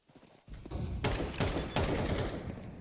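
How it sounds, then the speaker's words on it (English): Gunfire in a first-person shooter game, where an initial shot is followed by loud, sustained bursts of rapid fire that continue steadily to the end. "That's a headshot, by the way."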